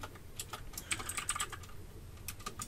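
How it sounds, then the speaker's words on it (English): Quick, close clatter of keystrokes on a computer keyboard, irregular taps in short flurries over a low room hum, with no voices. "So I'm just going to type the name of my page here"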